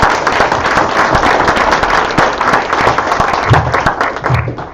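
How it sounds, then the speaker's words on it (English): Loud, steady applause from the audience at a school board meeting, many hands clapping in a dense, sustained wash with a few voices briefly audible near the end. "So round of applause for Mr."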